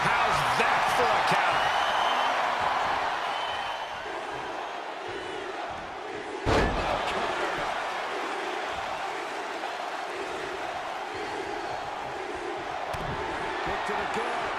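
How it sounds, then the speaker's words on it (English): Raucous arena crowd at a WWE 2K23 ECW wrestling match roars continuously, loud and dense, with a sharp slam-like impact near the middle and commentary talking over it. "What a raucous crowd here tonight."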